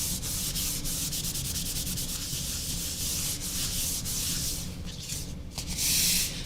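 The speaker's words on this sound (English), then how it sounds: "I just want to see if the crayon will just rub off or what it'll do." Crayon steadily rubbed back and forth across a surface, a continuous scratchy, sanding-like scraping at close range with a rhythmic stroke pattern and no talking.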